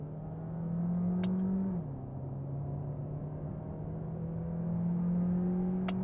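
A 2022 Peugeot 408 1.6 PHEV GT with 225 hp and EAT8 automatic pulling hard in second gear from about 50 km/h, a steady rising engine drone heard from inside the cabin.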